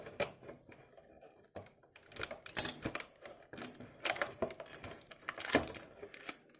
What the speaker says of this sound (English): Let's get this tape out the way.